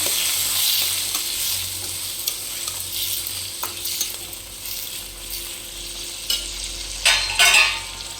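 Tomato and red chilli chutney is stirred with salt in a pan, a steady sizzle running throughout under a few scraping clicks of the spoon and a brief louder rustle near the end.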